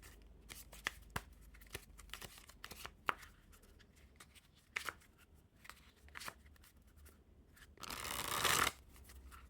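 Scooby Doo playing cards handled and cut in packets, a series of soft crisp card slaps and riffles, then a louder brief shuffle burst near the end, close and quiet.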